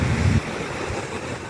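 Ocean waves wash onto a shore, a rumbling surge that drops off quickly into a steady hiss of water and wind; short and close, with no voices.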